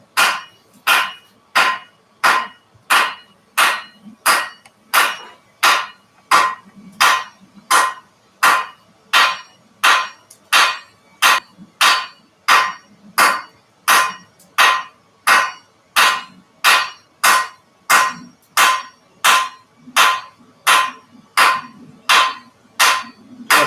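A blacksmith hammers hot steel while forging knives, striking about thirty loud, ringing, evenly spaced blows, close and steady, roughly one per second throughout.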